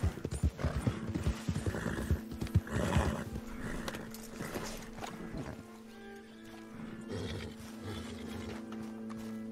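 Horse hooves clip-clopping at a gallop with whinnying neighs in the Red Dead Redemption 2 video game, loud and close, with game ambience and occasional roaring beneath.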